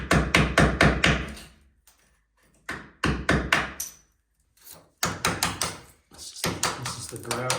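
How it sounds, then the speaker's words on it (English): A hammer strikes hard chunks of grout repeatedly in rapid bursts of sharp, close knocks, with brief pauses between the volleys. "Maybe whack a few pieces with the hammer."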